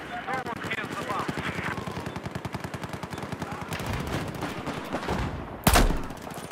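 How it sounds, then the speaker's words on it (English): Rapid automatic gunfire and bursts of shooting in Battlefield 4 multiplayer combat, dense and continuous, with a louder blast near the end and a player talking over it. "These guys are literally just shooting everywhere."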